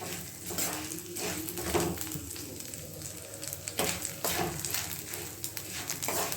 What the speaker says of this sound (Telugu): మన మినపప్పు పల్లీలు కూడా ఆయిల్లో మంచిగా వేగాయి.